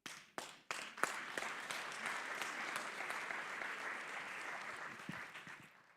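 Applause at an Equal Pay Day event opens with a few sharp individual claps, then swells into steady, fairly soft clapping from a seated audience that gradually thins out toward the end.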